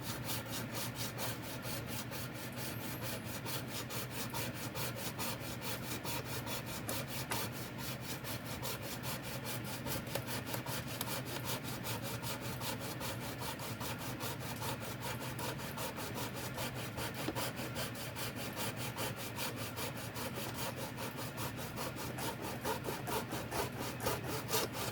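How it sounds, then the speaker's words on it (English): A hand saw cuts steadily through the thin plastic of a Mattel Lightyear XL-01 toy, a continuous close rasping stroke that runs for the whole stretch with no talking. "I'm basically cutting through the thinness of the plastic"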